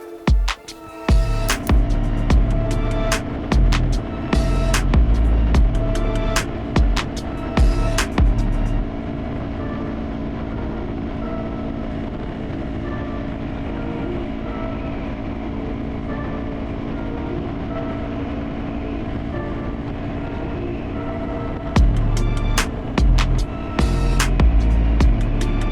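Honda CRF300L Rally motorcycle on a test ride, its engine droning steadily and loud throughout with a constant hum, surging and pulsing near the start and end as the throttle changes, alone with no talking.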